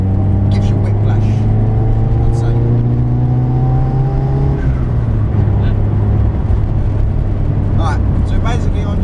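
A fully forged, turbocharged 301 bhp Toyota Glanza drives loudly and close, its engine drone holding steady before a pitch shift midway as it changes speed, with occasional chirps and whooshes over the constant roar.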